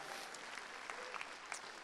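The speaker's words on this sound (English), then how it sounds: "Give yourself a round of applause for that." Audience applause at a summit talk in Toronto, a steady, fairly distant spread of many hands clapping at low level for under two seconds.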